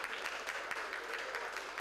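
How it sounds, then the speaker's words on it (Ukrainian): Applause in a gymnasium's school assembly hall as a guest is welcomed, a steady wash of many hands clapping evenly and continuously with no pauses or voices standing out. "Володимира Балуха зустрічають оплесками"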